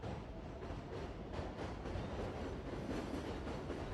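A metro train rumbles past at midnight near a station, a steady, loud continuous roar with faint clattering wheels throughout, no voices.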